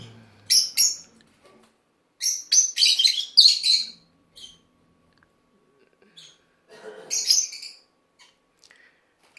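Pet birds chirp in short, high, twittering bursts indoors in a house, separated by near-silent gaps, close and fairly quiet.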